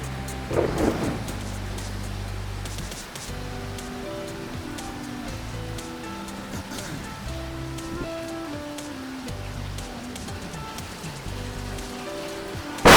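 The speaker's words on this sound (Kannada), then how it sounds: "ಇಲ್ಲೆಲ್ಲ ನೋಡಿ ಮಳೆ ಎಲ್ಲ ಹೆಂಗೆ ಫೋರ್ಸಾಗಿ ಬರ್ತಿದೆ" Heavy first rain of the year at Agumbe pours down as a dense, continuous hiss with a steady patter on surfaces, loud and close, with a brief louder burst near the start and a sharp noise at the end.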